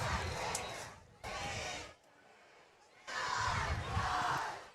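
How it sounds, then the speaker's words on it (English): High school football crowd in the stands bursting into roaring cheers led by a cheer crew, loud chanting bursts broken by a brief quiet lull before a renewed swell. "Cheer crew getting everybody fired up after that one"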